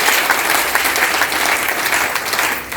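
An audience on a stage event welcoming a guest with loud, dense, continuous applause that holds steady throughout with no talking over it.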